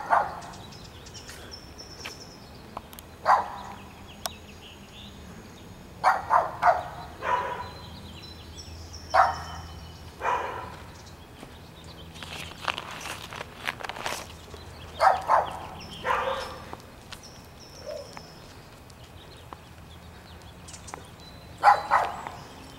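A Cocker Spaniel barks outdoors on a residential Beverly Hills street, a series of moderate, spaced barks in small clusters with quiet gaps between.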